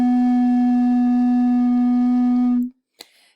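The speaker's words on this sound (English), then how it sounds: "So that is the sound of an empty bottle." Breath blown across the mouth of an empty bottle makes a steady, hollow, horn-like hum that holds for over two seconds and then stops abruptly, followed by a faint click.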